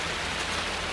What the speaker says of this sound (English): Can't get me now, rain.